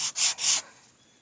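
A small piece of wood for an N scale model waterfront shack sanded lightly on a grit sanding block: two quick close rasping back-and-forth strokes, then quiet.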